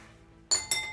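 Dice clattering in a glass bowl, two sharp bright bursts of clinking about a fifth of a second apart after a quiet start, near and fairly loud.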